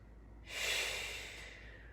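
A single long, breathy exhale during a yoga breathing exercise, close and soft. It swells quickly, then fades gradually over about a second against a quiet room, with no talking.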